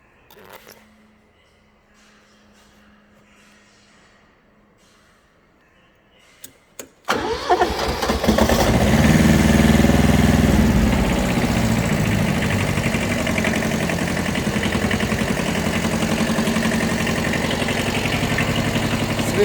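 A Kubota Bulltra 10 mini tractor engine cranks after a quiet stretch with a faint electrical hum, catches with a couple of sharp bursts, then settles into a loud, steady diesel idle up close.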